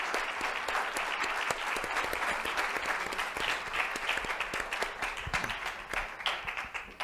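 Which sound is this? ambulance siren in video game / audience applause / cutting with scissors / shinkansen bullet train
audience applause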